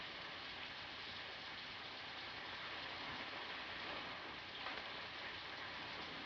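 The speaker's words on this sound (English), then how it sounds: "I like it when it rains really hard." Rain falls hard as a steady, wide hiss in a vintage radio drama sound effect, constant and unbroken, with no speech over it.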